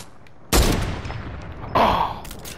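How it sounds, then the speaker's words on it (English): Gunfire in the Fortnite video game striking a player's built structure, with two loud sharp broadband bursts about a second apart, each trailing into a noisy decay, with no talk over them. "Why are you shooting my build?"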